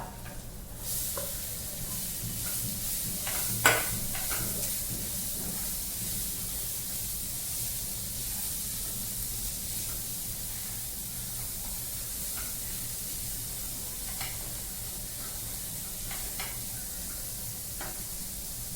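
Onion frying in a pan while making eggplant bharit: a continuous, even hiss of sizzling oil held close throughout, with a few faint clicks and stirring taps, no speech.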